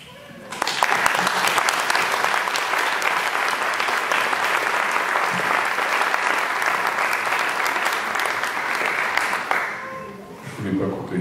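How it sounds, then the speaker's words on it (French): A conference audience breaks into loud, sustained applause, a dense crowd of clapping that holds steady for about nine seconds before tapering off. "Je ne voulais pas couper les applaudissements."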